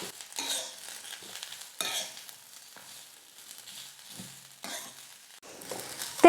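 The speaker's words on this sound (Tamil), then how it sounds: "தேங்காய் சேர்த்துட்டு 1 நிமிஷம் நல்லா வதக்குனா போதும்." Ridge gourd peel and grated coconut are stirred in a hot pan, with soft sizzling and repeated scraping bursts of the spoon against the pan, fairly quiet and close.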